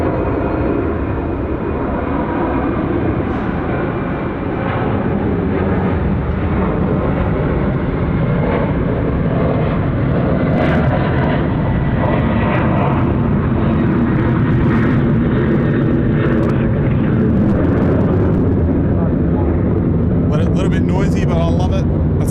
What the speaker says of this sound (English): I can see a 747 flying over the field as well. It's Cathay Freighter. Oh, listen to it.